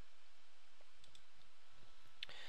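A few light, faint keystrokes are tapped on a computer keyboard while a command is entered in a command window, with brief clicks clustered near the end of a quiet moment.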